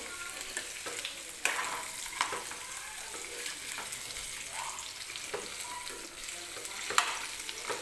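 Potatoes frying in oil in a kadai, a steady sizzle with scraping stirs of a spatula at irregular intervals, close and fairly quiet, no voices.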